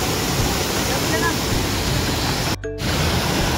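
A river stream rushes steadily, giving a dense, even roar of flowing water close by, interrupted once by a brief voice.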